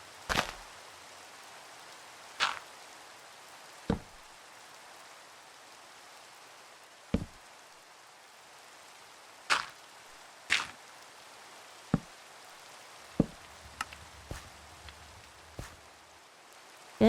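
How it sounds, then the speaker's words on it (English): Rain falling in a Minecraft world, a soft steady hiss of rainfall with scattered sharp clicks and taps from drops or game actions, calm and with no voices. "It is raining."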